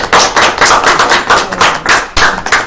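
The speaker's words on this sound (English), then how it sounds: "Everybody clap it up." An audience claps in rhythmic bursts at a holiday media gathering, a loud close round of applause pulsing in regular beats with no speech over it.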